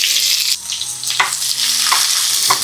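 Three sliced onions added to a hot pan with chillies already fried, giving a loud, close, continuous sizzle broken by several scraping stirs.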